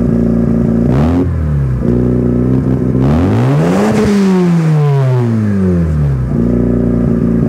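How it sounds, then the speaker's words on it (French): A Mazda RX-7 FD with a Mazda Speed exhaust revs hard and loud close by, in two sweeping climbs and falls in pitch that settle back to a rough idle, with no voices. "on a une sortie d'échappement Mazda Speed, donc on peut dire OEM+, qu'on pouvait acheter au concessionnaire à l'époque et qui donne un très beau son"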